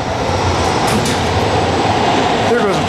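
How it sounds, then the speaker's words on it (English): A MARTA subway train rumbles past at Civic Center station, a steady loud rolling roar with metallic squeals and rattles heard from the platform area near a double-decker hydraulic elevator. "There goes a train, by the way."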